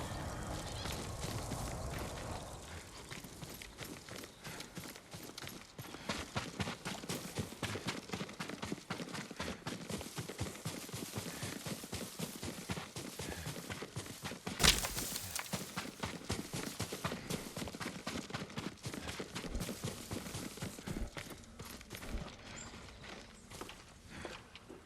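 Hooves clip-clop in Ghost of Tsushima as Yuriko's horse moves along a path, a long even stream of close hoof strikes with one sharp bright crack partway through and the rhythm continuing to the end.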